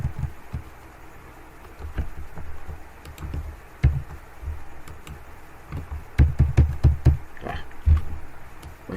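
Scattered key clicks and taps at close range, irregular and uneven, with a brief burst of quick presses near the end; no voices.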